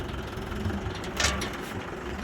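A steady, low tractor engine idle rumbles throughout, with a brief hissy surge partway through before the even idling resumes.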